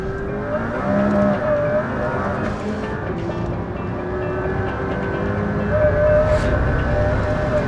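A McLaren P1 supercar accelerates hard around a circuit with traction control and stability systems switched off, its engine a loud, continuous roar that holds steady for several seconds.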